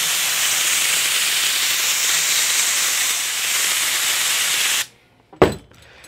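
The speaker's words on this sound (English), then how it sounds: "So we'll spray a little bit of glue on our metal." An aerosol can sprays glue onto metal for a gauge panel in a 1932 Ford build, heard as a loud, steady hiss lasting several seconds and then cutting off, followed by a brief clunk.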